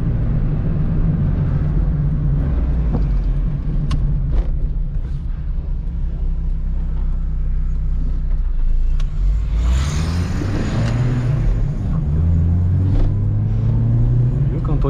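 Deep engine rumble of a Chevrolet Celta 1.0 building as it accelerates, with a rising roar midway over a constant low drone.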